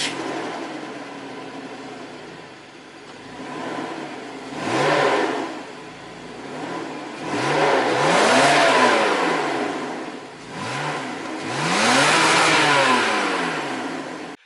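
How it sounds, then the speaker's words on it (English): A 2002 BMW 525i engine revs repeatedly, three or four rising and falling surges over a steady idle, loud and close with no talk. "That would then bring us to the engine sound, as you guys will now listen."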